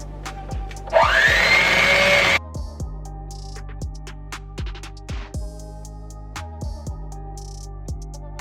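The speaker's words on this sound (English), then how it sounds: "I'm gonna beat the butter and eggs together." Electric hand mixer beating butter and eggs for pumpkin bread, a loud whirring burst of about one and a half seconds near the start, followed by quieter kitchen clatter and knocks.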